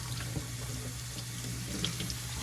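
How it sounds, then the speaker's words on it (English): Very cold well water runs steadily from a tap into a sink while homemade butter is rinsed, making a constant close splashing rush with faint drips. "All right, so I've got very cold well water going here."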